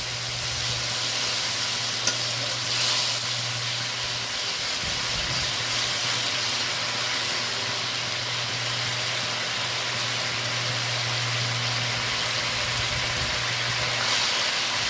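Brinjal karanchi, a spicy eggplant curry thickened into a gravy with a little water, sizzles steadily in a pan while a spoon stirs it, with a constant low hum underneath and no voices.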